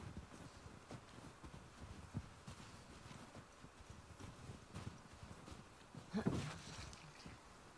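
Horses walk with soft, irregular hoof clops close behind the player in the video game The Last of Us Part II, faint beneath outdoor ambience, with one louder thump near the end.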